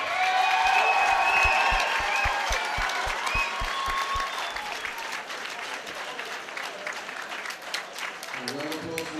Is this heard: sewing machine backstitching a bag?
no